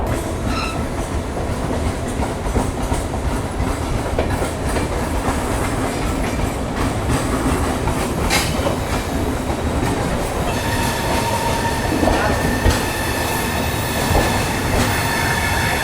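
An Indian Railways double decker express rolls along the rails at speed, a continuous loud rumble and roar with rhythmic clickety-clack and occasional faint wheel squeal, heard from inside throughout with no voices.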